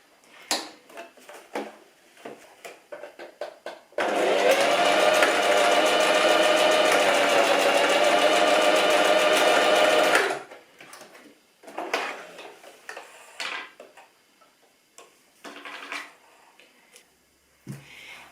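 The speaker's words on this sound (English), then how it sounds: "So just doing the last final seam, and then all I have left to do is cut all the threads." A sewing machine runs steadily at high speed for about six seconds as it stitches the final seams of fabric scrunchies. Quieter clicks and handling noises come before and after the run.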